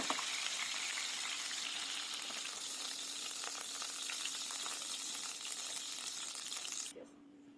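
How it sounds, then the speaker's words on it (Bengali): A whole chicken fries in hot oil, giving a constant close sizzle and crackle that holds steady for several seconds before dropping away suddenly. "হালকা বাদামি রং হলে এপিট ওপিট ভেজে নিয়ে মুরগিটা তুলে নিতে হবে।"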